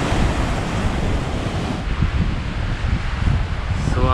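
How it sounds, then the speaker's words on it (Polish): Ocean surf rolls in at sunset on a Tenerife shore, a continuous wash of waves heavily blended with gusty wind buffeting the microphone, fairly loud and close with no voices heard. "I tu zaraz ocean i jego ciemne odmęty."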